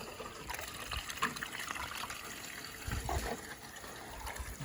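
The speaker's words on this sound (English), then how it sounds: "I'm going to shoot this all out with the M5 so it's brand new" Water jet from an M5 sprayer blasting mud and debris out of a drain, a steady rushing, splashing spray with surges, fairly close and continuous with no talk.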